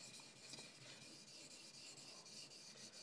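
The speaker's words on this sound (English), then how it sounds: "I'm just going to go ahead and kind of sharpen this how I would." Steel blade stroked across a sharpening stone in quick, even passes, a faint dry rasping that repeats steadily and close by with no voices.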